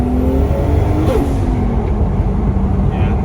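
A 520hp JDM Toyota JZX on a test drive, its engine a loud, steady low drone heard from inside the car, with a faint rising whine partway through.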